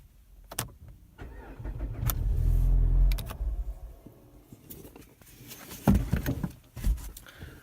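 A car out on the road, with engine and road rumble swelling and easing, a few sharp clicks and thumps near the start, and heavier bumps toward the end. No one talks.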